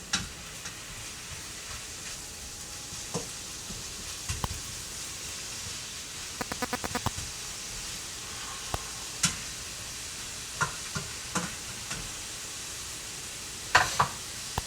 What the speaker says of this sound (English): deglaze the pan, get all those caramelized sugars off the bottom of the pan and into your broth